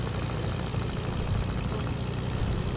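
A continuous, loud airplane engine drones in a multiplayer shooter game, a steady low propeller rumble that fills the whole stretch with no break and no talking.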